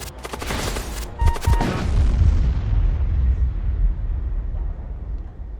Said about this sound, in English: Let's use the bolt cannon as well.